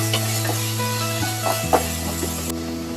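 Pieces of beef for a spinach beef curry sizzle in a pan as they are stirred, a close crackling hiss broken by a few sharp scrapes and a faint steady hum underneath.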